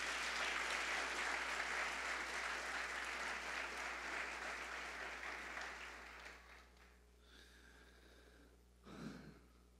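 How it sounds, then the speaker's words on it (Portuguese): Congregation applauding at a church service, dense steady clapping that fades out over several seconds, followed by quieter room noise and a brief breath or snort near the end. "Vamos aplaudir poderosamente a palavra de Deus."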